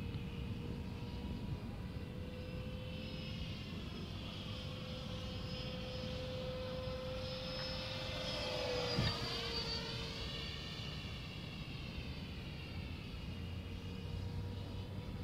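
A T45 aircraft engine drones steadily while the plane prepares to land at an airfield, with a sweeping pitch change midway as it passes. The sound is distant and fairly faint, and no voices are heard over it.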